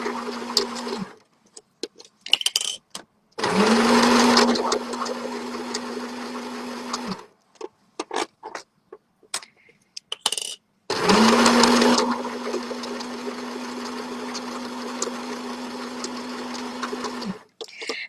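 A sewing machine stitches square pieces of tie dye fabric into a shopping bag, running in two long steady whirring bursts with short starts and stops, handling noises and a voice in the quiet gaps between.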